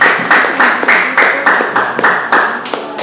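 A church congregation claps together during a Spanish-language worship service, producing loud, evenly spaced rhythmic claps in a steady beat, about three per second, over a faint tonal background.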